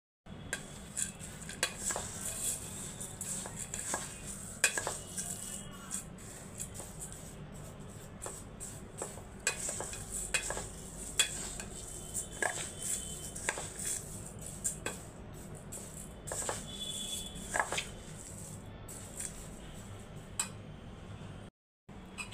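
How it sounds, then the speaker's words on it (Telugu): Roasted seeds stirred together in a bowl for a weight-loss diet recipe, with a steady, continuous scraping and rattling and many small clicks and ticks throughout, close and fairly quiet, with no voices. "ఈ సీడ్స్ అన్నీ ఒక దగ్గరే కలుపుకోవాలి."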